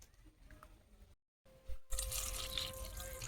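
Raw mango washed and mashed by hand in water, quiet drips and trickles giving way to louder close splashing and sloshing near the end, no talk.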